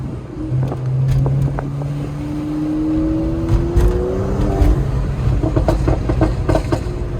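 A car engine accelerating in second gear, heard from inside the car as a steady droning rumble with a rising whine, over road and rattling noise.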